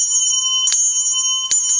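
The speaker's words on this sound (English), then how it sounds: "This one's got a clever button on it, but you can also play it" A small hand bell with a button is struck twice, each bright ding ringing out over a steady sustained tone with no talking.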